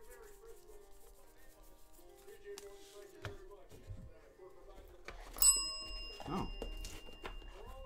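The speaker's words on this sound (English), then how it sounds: "The bell wanted to make an appearance." A bell rings once during a Christmas box-opening break of baseball cards, a bright ringing tone with a sustained ringing tail that stands out over rustling and handling noises, with people talking around it.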